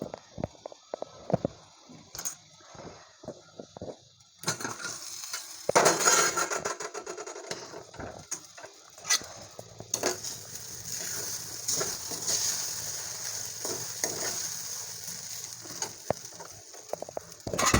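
Rava upma being stirred in a pan after the lid comes off: irregular scraping and clacking strokes with a soft sizzle beneath, sparse at first, then busier and louder, close by.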